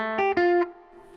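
Bluesy electric guitar octave riff with both phrases strung together, a few punchy distorted octave notes sustaining briefly before fading, played alone and up close.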